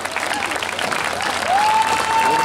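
A concert audience claps steadily at a performance, a dense wash of applause with crowd noise, rising slightly louder as a sustained tone enters partway through.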